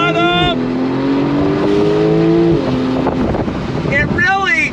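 A 2024 Porsche 911 Turbo S pulls hard on throttle, its engine note climbing steadily and loud, then dropping as it shifts. Near the end a rising rev sweep follows, and speech partly overlaps the sound.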